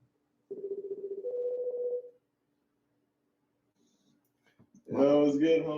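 An outgoing phone call gives one long ringback tone that steps up in pitch midway, then goes quiet before a voice starts talking.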